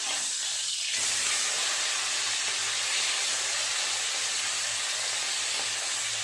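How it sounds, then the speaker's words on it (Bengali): Tangra fish fry in hot oil, giving off a constant dense hiss of sizzling that fills the whole stretch at an even, fairly loud level with no pauses. "দুটো মাছই খুব ভালো করে ভেজে নেবো।"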